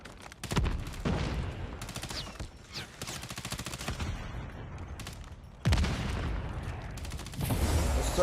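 Gunfire in Call of Duty: Mobile ranked play: rapid automatic bursts of shots crackle in quick strings, broken by brief pauses and separate volleys, moderately loud throughout.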